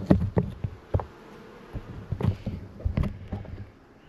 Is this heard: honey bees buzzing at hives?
yes